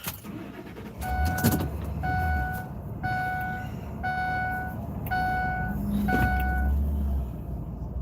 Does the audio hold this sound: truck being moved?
yes